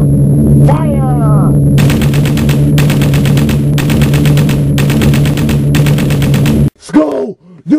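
Rapid bursts of flak guns firing at aircraft in an animated war film, five loud sustained volleys of crackling gunfire over a steady engine drone, ending in a brief muffled voice.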